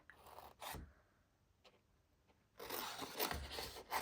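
Scissors snip and rasp through card paper while it is cut around a shape. There are two brief scraping cuts, then a pause, then a longer, steadier run of close cutting. The sound is quiet overall.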